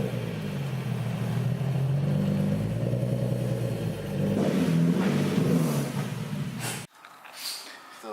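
A Nissan 370Z fitted with bolt-on downpipes revs repeatedly, its engine note rising and falling loud and close. The sound cuts off abruptly near the end, followed by a brief quieter tail with faint voices.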